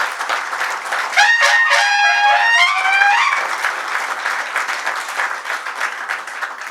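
An audience applauds at a seminar's inaugural function in a hotel in Lonavala, giving loud, sustained clapping throughout. Early on, a rising, whistle-like tonal call sounds over the applause.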